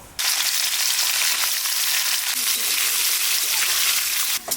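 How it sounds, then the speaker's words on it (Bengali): Paneer pieces frying in a pan, seasoned with salt and turmeric: a steady, dense sizzle that holds evenly throughout, close and fairly loud, ending abruptly. "প্রথমে পনিরটাকে একটু ভেজে নেব"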